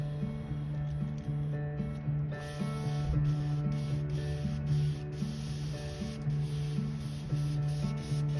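An airbrush with a 0.5mm nozzle sprays out paint to clean the needle tip, a steady hiss mixed with a repeating mechanical whir and clicks close by.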